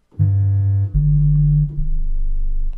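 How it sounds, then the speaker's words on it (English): Deep synthesized bass tones from a WubWub VST synth plugin: two sustained, loud low notes with rich harmonics, followed by a third slightly wavering tone, all without any voice. "So this creates and generates bass tones"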